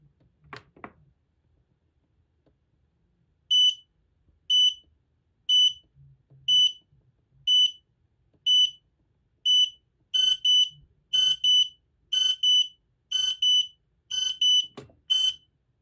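An X-Sense SC07-W smoke and CO alarm beeps during an interconnect test in a steady series of loud, high-pitched chirps, repeating about once a second and briefly overlapping near the end.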